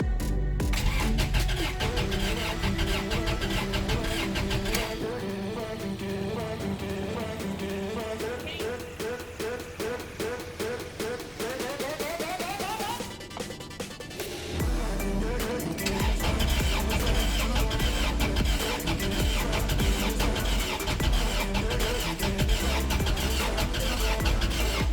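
A 2000 Honda Accord engine runs loud and close, its dense mechanical roar shifting in pitch partway through before settling back into a steady, rough idle, with no voices.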